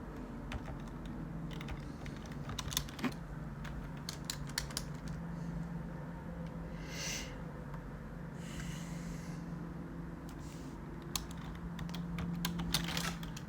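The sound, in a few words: typing on a computer keyboard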